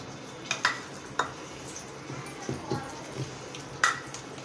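Corn vada batter being mixed with rice flour in a bowl, heard as soft scraping and a few light clinks of a spoon against the dish, scattered and fairly quiet over a low room background.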